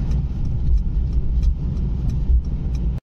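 Steady low road rumble and tire noise from inside a Mercedes car cruising at about 60 km/h on the Barapullah flyover, loud and continuous with small rattles and no talking.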